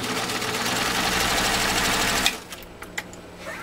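A PFAFF 332 sewing machine stitches through three layers of vegetable tan leather, running loud and steady for over two seconds, then stopping abruptly, followed by a few brief clicks and knocks in the quiet.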